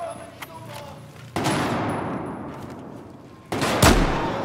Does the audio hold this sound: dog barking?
no